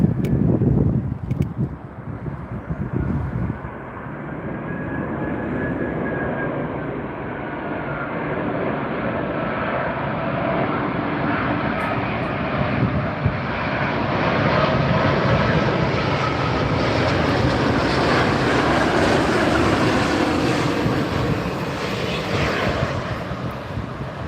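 A Cathay Pacific airliner arrives on runway 27R at London Heathrow in August, its jet engine roar building and sustained as it passes close, a broad loud whoosh with wind, no talking.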